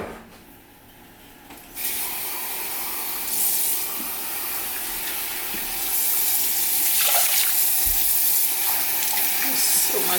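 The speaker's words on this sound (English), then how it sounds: "So we'll clean the rice" White rice being rinsed under a running kitchen tap, a steady close hiss and splash of water into a sink that starts after a quiet moment and grows fuller, with occasional louder splashes.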